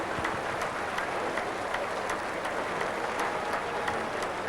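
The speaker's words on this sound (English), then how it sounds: "Warm applause from his teammates, all the England camp and the supporters from back home" Warm, sustained applause from England cricket teammates and travelling supporters at a Test match in Guyana, a steady dense patter of many hands clapping with crowd noise throughout, fairly loud and even.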